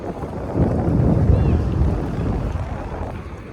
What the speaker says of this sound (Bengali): এত সুন্দর সমুদ্রের গর্জন শোনা যাচ্ছে।